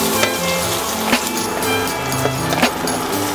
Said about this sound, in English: let us saute the onions.